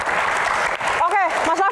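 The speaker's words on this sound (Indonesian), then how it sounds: "Tepuk tangan buat Mas Raffi" A studio audience at a Q&A show claps for Raffi Ahmad, a brief burst of applause that gives way to a voice speaking over it.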